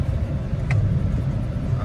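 Low engine drone from a 2020 Toyota Corolla XSE just after a paddle-shifter downshift, a steady rumble with faint road noise, fairly quiet and without talk.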